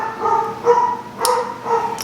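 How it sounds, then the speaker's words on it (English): A pet dog barks repeatedly indoors in a home, four fairly loud, evenly spaced barks with no talking over them. "My dog is barking like crazy, so this is probably going to be muted."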